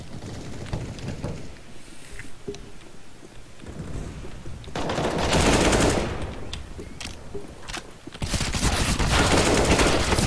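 Bursts of AK-47 rifle fire in the shooter game CS:GO, loud sustained automatic volleys with quieter stretches of scattered shots between them, no talking.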